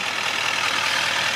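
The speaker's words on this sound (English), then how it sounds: "Hopefully you can hear me over the engine" A 2017 Chevrolet Silverado 2500 High Country with the 6.6 liter Duramax diesel idles close by, a steady, loud, even rumble with no talking.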